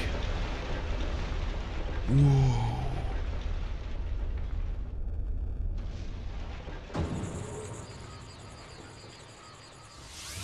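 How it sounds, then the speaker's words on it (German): A deep, rumbling explosion booms out amid a dense, hissing Pokémon Snap game soundscape, opening a path, followed by crackling debris and a bright shimmering tone as things settle. "es ist explodiert"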